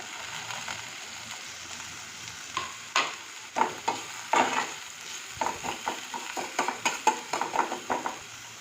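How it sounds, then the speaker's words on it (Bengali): Chopped onion, green chilli and ginger sizzle in a pan while a spoon stirs, scraping and clinking in irregular bursts over a quiet, continuous frying hiss. "আদা, কাঁচা লঙ্কা একটু ভাজা ভাজা হয়ে গেছে"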